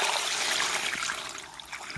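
Water pours steadily from close by into a basin dug in the soil around a malta orange sapling, a constant splashing trickle with no voices.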